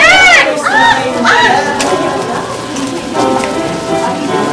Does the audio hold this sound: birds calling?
yes